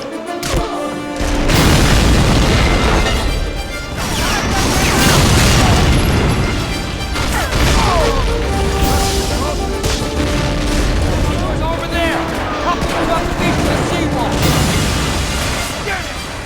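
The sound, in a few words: gunfire and artillery bombardment on D-Day beaches, video game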